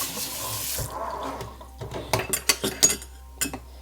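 Tap water running into a sink during rinsing after cleaning horse grooming brushes, a steady splash that stops, followed by several sharp clanks and knocks of items in the basin.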